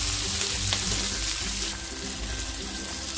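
Chopped garlic and ginger fry steadily in hot oil for a soya chunk dish, giving a continuous close sizzle with soft crackles and no voices.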